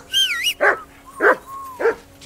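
In Kingdom Come Deliverance II, a dog gives three sharp, evenly spaced barks close by, following a brief tonal sound at the start.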